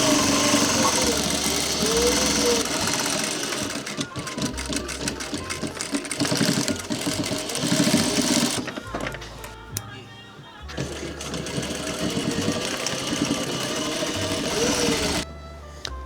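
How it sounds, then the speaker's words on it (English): Sewing machine stitching jacket lining panels together for a workwear jacket, running loud and close in long continuous whirring runs with a brief pause midway before starting up again. "we're just sewing this shell together the exact same way we sewed the outer shell"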